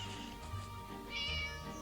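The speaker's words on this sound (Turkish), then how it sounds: "kedinin sesi" A cat meows in the video game Scary Teacher 3D, a short mid-pitched cry rising out of steady game background noise.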